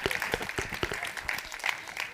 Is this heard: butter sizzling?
no